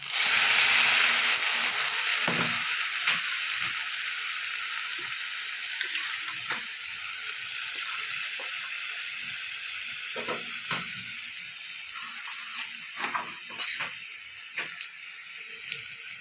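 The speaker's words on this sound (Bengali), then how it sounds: "এবার সর্ষে পোস্তটা আর কাঁচা লঙ্কা একসাথে যেটা পেস্ট করেছিলাম সেটা আমি দিয়ে দেবো।" Mustard-poppy and green chili paste frying with bhola fish in a pan, a loud continuous sizzle that starts strongest and slowly settles, with occasional spoon scrapes and clicks close by.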